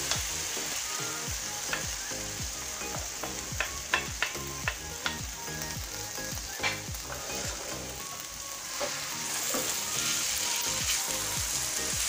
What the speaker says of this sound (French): درت الزيت في المقله. Donc je vais mettre ma pomme de terre et l'oignon râpé.